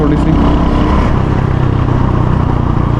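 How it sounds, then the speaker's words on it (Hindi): A motorcycle on a showroom test ride revs hard in third gear, its engine pulling with a steady, loud drone that holds close by for the whole stretch, with no voices over it. "थर्ड गियर पे चलो खींच के देखते हैं"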